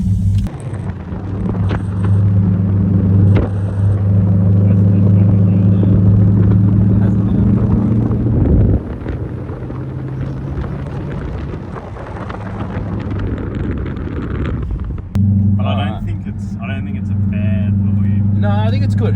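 A Holden VZ SS fitted with a new exhaust revs hard close by, a deep, loud engine rumble swelling and falling across several throttle blips, with voices chatting over it now and then.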